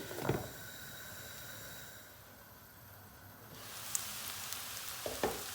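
Onions fry in a pan with a soft, steady sizzle, broken by a couple of brief scraping stirs near the start and the end.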